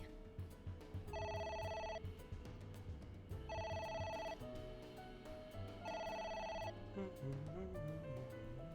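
A telephone rings three times in the video game AI: The Somnium Files, each a bright, buzzy electronic trill of about a second with a pause between. It sits under the game's music and sound effects, and a voice talks over it.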